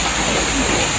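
Steady, dense hiss of heavy rain fills the clip without a break, a broad constant wash with no distinct drops standing out.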